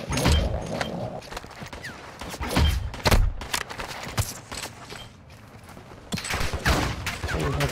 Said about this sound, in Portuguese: Jogaram um diabo da granada.